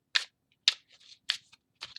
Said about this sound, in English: I think it's time to shuffle it